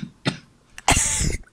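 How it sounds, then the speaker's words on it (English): A person coughs twice, first a short sharp hack, then a longer, harsher burst of coughing, loud and close with no talking. "I think I just coughed up my blood clot."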